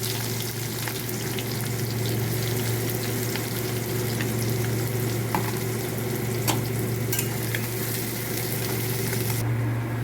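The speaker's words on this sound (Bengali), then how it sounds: "তেলটা গরম হলে গোটা জিরে দিয়ে দিচ্ছি, শুকনো লঙ্কা, কেটে রাখা পেঁয়াজ" Whole cumin, dried chilli and chopped onion fry in hot mustard oil, giving a loud, dense, unbroken sizzle with faint crackles and pops throughout.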